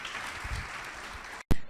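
A church congregation at a midweek Bible study applauds in a dense, steady wash of hand claps, broken by a sudden brief dropout and then a loud, abrupt burst.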